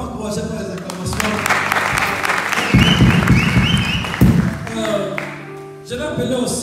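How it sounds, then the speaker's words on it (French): A church congregation at a Sunday service applauds and cheers steadily for several seconds, a dense sustained clapping that swells in the middle and fades near the end. "Est-ce qu'on peut encourager pour les acclamations?"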